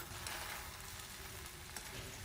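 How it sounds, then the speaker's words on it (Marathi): Matar pulao gently mixed in a pot with ghee and chopped coriander, a soft close sizzle with faint stirring scrapes, quiet and steady. "हळूच मिक्स करूया."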